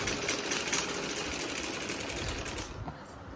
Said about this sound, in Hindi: मैं जो है ना माशाल्लाह से बैठ गई हूँ मशीन के पास और कर रहे हैं कपड़े सिलाई